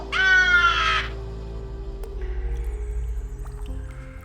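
A screeching eagle cry sound effect in an animated G.I. Joe comic, loud and harmonic for about a second, then fading into a low rhythmic rumble with faint background sounds.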